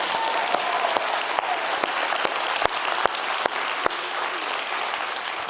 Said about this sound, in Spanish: vamos a dar un aplauso, hermanos, a todo el equipo de artes.